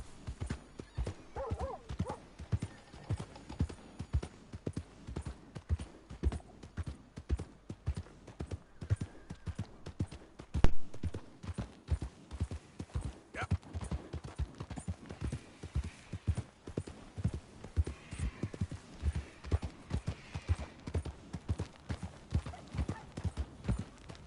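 Hooves of a ridden horse in Red Dead Redemption 2 clip-clopping in a steady, brisk rhythm, close and distinct, with a short neigh partway through and no speech over it.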